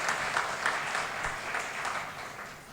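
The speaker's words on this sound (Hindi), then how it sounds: "एक बार राजेश जी के लिए भी तालियां बजाइए साहब।" Audience clapping at a Haryanvi comedy poetry recital, a steady dense round of applause from a crowd that holds at an even level for the whole stretch with no talk over it.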